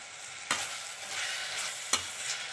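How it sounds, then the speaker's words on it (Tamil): Curry leaves and coriander sizzle steadily in a pan of mutton gravy, a continuous bright frying hiss broken by two sharp spoon clacks against the pan. "இதோட இப்போ கருவேப்பிலை கொத்தமல்லி சேர்த்துக்குவோம்."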